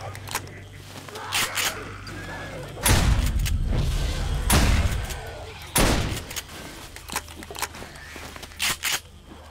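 Shotgun blasts in the zombie survival game 7 Days to Die during a nighttime horde, several loud booming shots spaced a few seconds apart, with scattered thumps and a voice talking between them.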